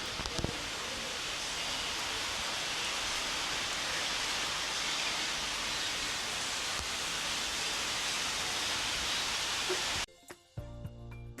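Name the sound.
rain falling, light to moderate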